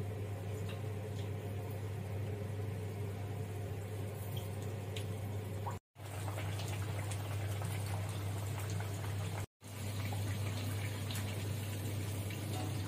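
Jackfruit seed vadas fry in hot oil in a wok, giving a continuous bubbling sizzle at a moderate, even level with no talk. The sound is interrupted by two abrupt momentary cuts.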